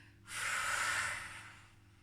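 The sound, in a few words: breathing in and out during an exercise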